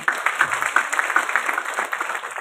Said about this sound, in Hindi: स्वागत करिए तालियां बजाकर।